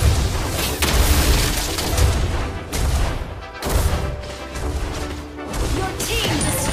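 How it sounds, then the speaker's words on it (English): Heavy booming crashes of turrets being destroyed in Mobile Legends, several loud impacts in quick succession over dense game effects, fairly close and forceful with no speech. "Your team destroyed a turret!"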